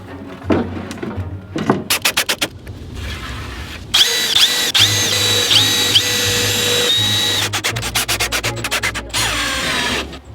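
Power drill drives a screw into a wooden lid during a van build, with short bursts of whirring and ratcheting, a sustained high whine in the middle, then more clicky bursts, all close up.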